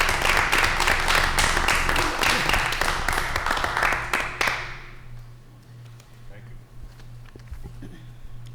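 Applause from the audience at a town select board meeting, a dense burst of many hands clapping that fills the room, then fades away after about four seconds into quiet room tone with a low hum.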